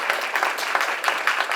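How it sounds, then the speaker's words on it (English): A quick round of applause from an audience at a school recognition event, steady dense clapping throughout the short stretch with no voices over it. "So if we could just give them a quick round of applause."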